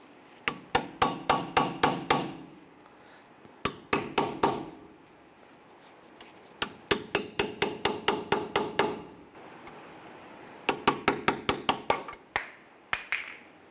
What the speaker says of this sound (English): Now we're going to use a chisel, and we're going to go ahead and get behind the lip here and just kind of work this off.